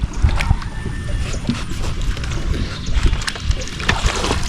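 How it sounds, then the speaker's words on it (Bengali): A boat is rowed across the Chalan Beel wetland, with irregular splashes and knocks of the oars mixed with gusty wind noise, close and fairly loud. "তুমি তো সুন্দর নৌকা চালাতে পারো"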